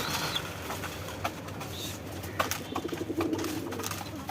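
Caged pigeons coo softly and repeatedly at close range during feeding time, with faint wing rustles and a steady background hiss in rainy weather; no one speaks.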